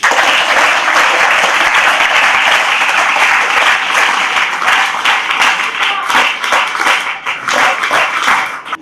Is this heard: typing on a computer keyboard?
no